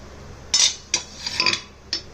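A karahi wok being set down on a kitchen counter gives a few light metallic clinks and scrapes, separate and close, in a quiet room.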